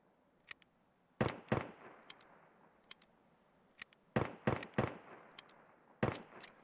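Sherman firing a gun in the Escape from Tarkov video game: sharp, fairly distant shots in small clusters of two or three, separated by quiet gaps, with no voices.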